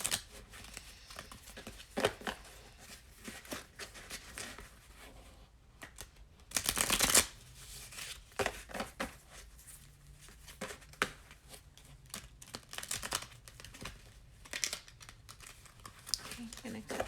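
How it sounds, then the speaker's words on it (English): A deck of tarot cards is shuffled and cut, giving repeated papery riffles and crinkly flicks with one louder burst of ruffling partway through, close and soft, while a person talks quietly at points. "Okay, I'm gonna cut the deck."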